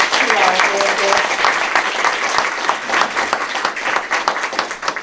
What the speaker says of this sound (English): give a round of applause to our therapists